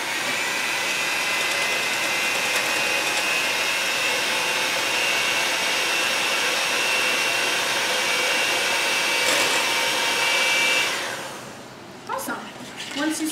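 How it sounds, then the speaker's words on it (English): An electric mixer runs steadily, blending egg, milk, Greek yogurt and applesauce into wet loaf batter, a constant whirring hum for about eleven seconds before cutting off and leaving a few soft clinks. "I'm going to go ahead and mix this until it's even. Start out slow and then speed it up at a proper speed."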